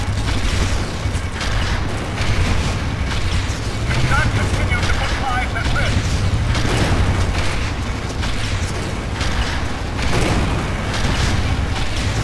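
Rapid bursts of turret fire with booming impacts in Red Faction Guerrilla run steadily through the whole stretch, loud and dense, while a player talks over the gunfire.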